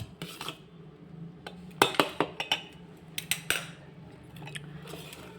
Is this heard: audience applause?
no